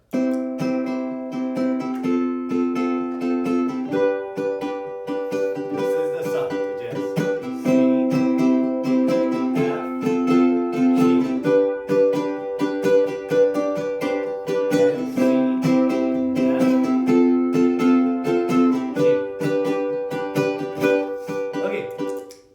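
Strummed ukulele chords played through a looper cycle through a steady repeating progression, bright and continuous, with no voices over the playing.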